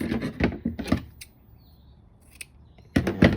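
Scissors cutting satin ribbon for a handmade greeting card and gift folio, several quick crisp snips in bursts near the start and again at the end, close and clear with a quiet pause in between.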